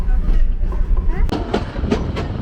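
Vintage train on a heritage railway at Glenbrook, New Zealand, its wheels clacking over steel rail joints: a steady loud rumble with a series of sharp rhythmic clicks building in the second half, close by.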